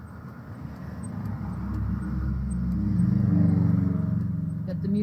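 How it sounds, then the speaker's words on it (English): Road traffic passes in front of a homestead's front yard, a low engine rumble that swells gradually and peaks before easing slightly, with faint outdoor background and no clear talk. "we do have to put up with some noise from the traffic."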